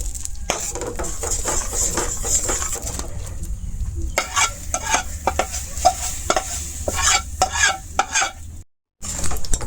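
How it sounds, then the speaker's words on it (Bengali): A spoon stirs a milk powder chocolate kulfi mixture in a pan, close, rapid scraping strokes in an uneven rhythm over a constant faint hiss, with a brief dropout near the end. "খুব ভালোভাবে মিশাই এরকম করিয়া দেখুন"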